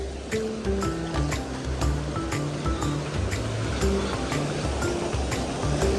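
Steady, loud rushing water pours continuously without a break at a high-pressure waterfall at Tamhini Ghat, a dense roar close by.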